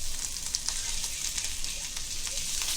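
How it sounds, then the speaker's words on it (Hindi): Chopped ginger frying in a tablespoon of oil in a pan, making a steady, close hiss and crackle with occasional stirring scrapes throughout and no talking. "ये देखो अभी ये अदरक डालेंगे, चॉप किया हुआ अदरक है ये डालेंगे"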